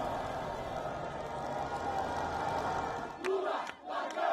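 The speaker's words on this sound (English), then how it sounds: "The crowds were ecstatic." Dense roaring crowd noise at an outdoor celebration of Lula da Silva's election win in Brazil, loud and continuous, with a few sharper shouts and bursts near the end.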